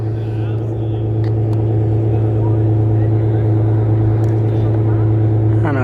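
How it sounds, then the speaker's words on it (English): A car engine idles steadily and loudly close by at a casual car meet, a constant low droning hum with a brief rising rev near the end, under faint background talk. "he's moving his car"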